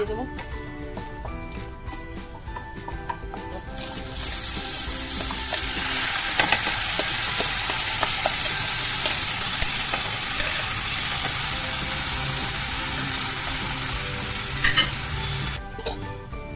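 Spices crackling in hot oil for pulao, a loud dense sizzle that bursts up suddenly and holds steady with occasional pops and stirring, as a voice talks over it.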